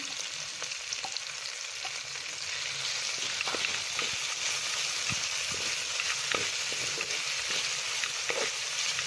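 Tomatoes and green chillies sizzle in a pan, a moderate, even frying hiss with scattered clicks and taps from stirring, no one speaking.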